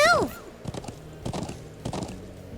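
Horse hooves clopping in Trails of Cold Steel on PS3, opening with a whinny, then a steady rhythm of thuds at moderate volume, with talk faintly underneath.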